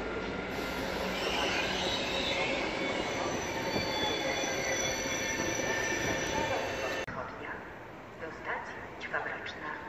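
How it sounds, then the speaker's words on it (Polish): An EIP express passenger train from Gdynia to Kraków rushes past on the rails with a loud, dense roar and squealing wheels, then the noise drops away to lighter rattling and clicks. "pociąg EIP z Gdyni Głównej do Krakowa Głównego"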